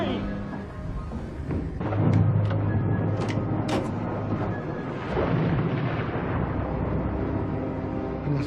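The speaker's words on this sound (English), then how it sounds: "Oh, we got a storm." Thunder rumbles through a storm scene in a TV drama, low broad rolls building and swelling twice over a steady wash of rain-like noise, with faint voices underneath.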